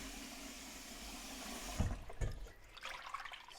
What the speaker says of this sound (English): And now we're going to wash it in cold water.